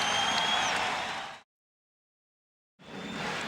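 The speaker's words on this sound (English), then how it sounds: "The crowd responding to the good start by the LA Lakers." Crowd noise in a basketball arena, with fans applauding the Los Angeles Lakers during the 1991 NBA Finals against the Bulls. A loud, dense wash of clapping and cheering is cut by more than a second of silence, then resumes.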